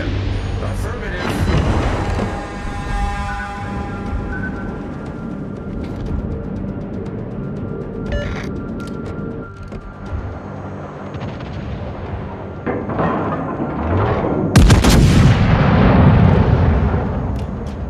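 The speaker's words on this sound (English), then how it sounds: "Concentrate fire on the enemy warship." Warship guns fire at an enemy warship in a naval combat video game, with heavy booms and blasts over a dense, continuous battle din, and a loud burst near the end; voices talk throughout.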